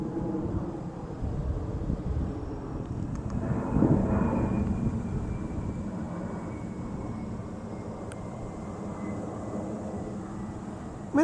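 An airplane flies overhead at night, a broad, steady low roar that swells slightly as it nears and then holds for about eleven seconds, distant and without talk.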